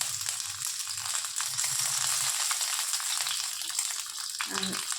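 Bay leaf and five-spice (panch phoron) frying in hot mustard oil for a drumstick curry, a steady close sizzling crackle that runs throughout, with a brief metallic clink near the end.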